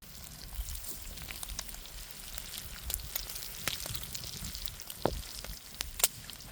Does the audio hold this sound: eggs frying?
yes